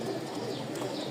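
Pigeons of a Giribaz or Lotan type kept at a breeder's loft give a soft, steady cooing that runs through the short moment without a break, fairly faint and with no one speaking.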